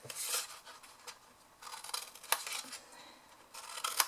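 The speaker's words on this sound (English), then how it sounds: "Then I'm just going to cut straight up these bottom pieces here." Scissors cut straight up through the bottom pieces of a paper or card storage template, with several close, crisp bursts of snipping separated by short pauses.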